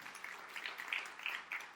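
Church congregation clapping in scattered, fairly faint bursts, with no speech over it.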